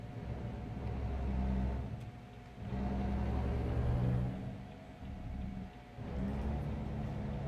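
Truck engine in the driving game American Truck Simulator, a low rumbling drone that swells and dips in several waves as the truck accelerates and eases off, moderately loud with no voices.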